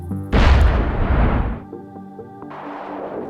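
A massive railway artillery gun in Minecraft's Create mod fires with a loud, broad boom that rumbles for about a second, then fades into quieter tonal game sounds with no talking.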